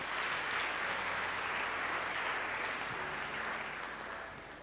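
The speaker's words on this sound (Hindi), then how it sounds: "ताली नहीं बजाओगे?" Audience clapping at a baptism teaching gathering, a dense continuous round of applause that holds steady and then begins to fade near the end.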